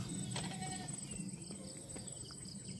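Goats bleat faintly now and then in a quiet farmyard, with soft rustling and distant background noise.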